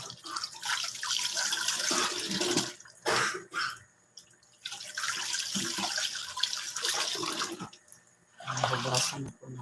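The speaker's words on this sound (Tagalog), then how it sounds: "Hugasan na po natin ito." Kalamansi fruit being washed under a running tap in a sink, with steady water flow and splashing broken by brief pauses, while a voice talks over it.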